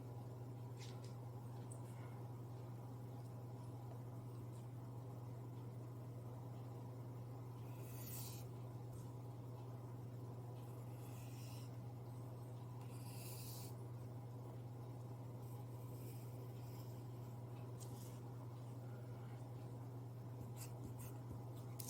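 Pen drawing a convex quadrilateral on paper during a class 8 math lesson: faint, intermittent scratchy strokes over a steady low hum, with no speech.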